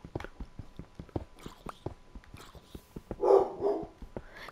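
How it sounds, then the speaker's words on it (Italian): A farm dog barks repeatedly in short, sharp bursts at an irregular pace, with a louder, rougher stretch near the end. No one speaks. "Scusate che è il mio cane che abbaia"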